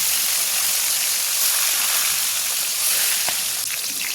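Fish fries in hot oil for a country-style fish curry, a loud steady close sizzle and crackle that fills the whole stretch without pause, with no talking.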